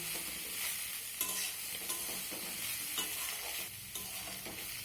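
Ginger and green chilli frying in a pan give a soft, steady sizzle, with occasional light taps of a spoon stirring and no speech.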